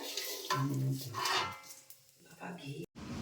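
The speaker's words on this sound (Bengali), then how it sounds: "আওয়াজ হচ্ছে চাল ফোটা" Rice frying in a pan sizzles and pops while being stirred, the crackle rising and falling under nearby conversation, ending in a brief sharp cut.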